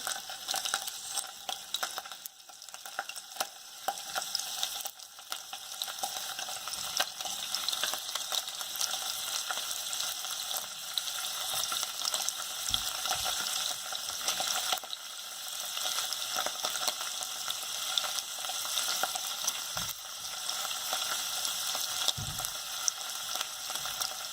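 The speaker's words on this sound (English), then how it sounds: "Okay, so looks like our oil is heated up. So I'm going to put the paneer." Paneer frying in a small amount of hot oil gives off a steady, close sizzle with scattered crackles and pops. The sound runs continuously and fairly softly, with no voices.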